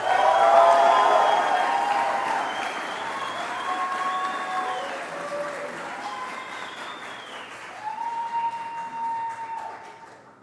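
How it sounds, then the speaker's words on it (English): A graduation audience for a civil and environmental engineering class breaks into loud, sustained applause that fades gradually, with a few voices heard amid the clapping. "Please, big round of applause for everybody."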